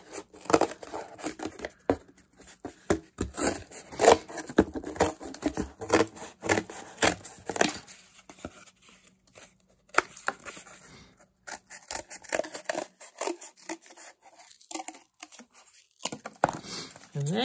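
Scissors snipping through paper to cut out small pattern pieces, a run of crisp close cuts and rustling paper handling, with a pause partway through before the snipping resumes.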